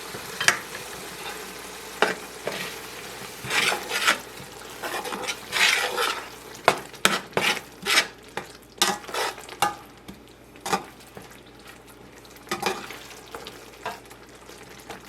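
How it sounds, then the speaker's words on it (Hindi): Mutton masala with yogurt being stirred and fried in a pan for tahari, irregular scraping strokes over a soft continuous sizzle, close and moderately quiet. "दही डालने के बाद हमने इसको अच्छे से चला दिया"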